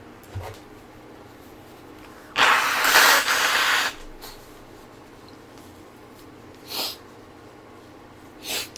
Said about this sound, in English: I'm just going to blow my nose real quick.